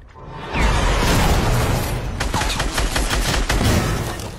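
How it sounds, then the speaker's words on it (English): Rapid gunfire in the video game Fortnite, a loud, dense burst of overlapping shots followed by a steady string of sharp, repeated cracks close by, with no talk. "They're shooting me a lot."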